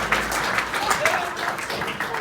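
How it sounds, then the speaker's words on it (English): A theatre audience at a Cinderella pantomime press launch cheers and claps for Tina, a steady patter of applause with voices mixed in throughout. "Give Tina a big cheer"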